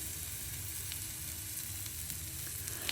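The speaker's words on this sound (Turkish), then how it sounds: "İkiye böldüğümüz lahanaları tavamıza yerleştiriyoruz." Halved Brussels sprouts frying in a pan of butter and olive oil, giving a steady, close, continuous sizzle with faint crackles and no talking.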